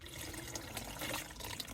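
Water runs steadily from a small camping shower head at a vanlife festival. The flow is a soft, continuous hiss with light splashing, close but quiet, and no one speaks.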